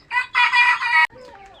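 Local desi chickens give loud, harmonic calls in two close bursts, the second one longer, then a quieter call trails off near the end.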